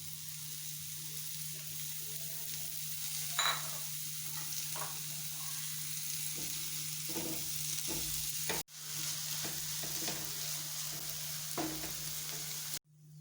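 Mushrooms sizzle in a hot pan of masala for cutlets, a soft steady frying hiss with occasional scraping stirs of a spoon, fairly quiet, broken by two brief cuts.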